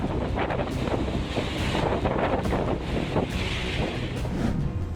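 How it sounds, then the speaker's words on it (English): Steady rushing wind and surging water, waves smashing continuously against a tanker's hull, loud and close with no voices. "Hypnotic waves smashing against the tanker's side."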